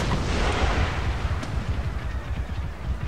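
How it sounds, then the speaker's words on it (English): Cannon fire in Empire Total War, with deep booming artillery rumble and a dense roar of battle. The noise stays continuous and loud throughout, with no distinct pauses. "Oh, they're shooting him with a cannon!"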